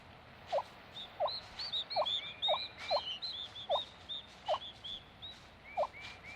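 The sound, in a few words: female wild turkey calling her chicks from the nest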